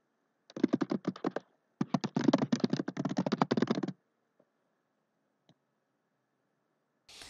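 Quick bursts of typing on a computer keyboard, a short run of clicks followed by a longer, denser flurry of keystrokes, then silence with a few isolated taps.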